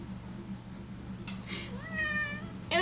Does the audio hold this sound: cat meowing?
yes